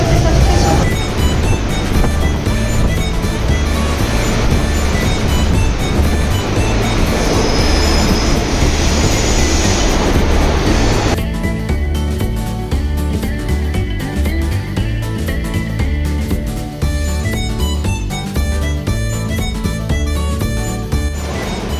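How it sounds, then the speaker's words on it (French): A Rio de Janeiro metro train runs loudly and close by, with rumbling wheels and a high squeal that drops away partway, continuous throughout. "C'est bon, on a retrouvé le métro."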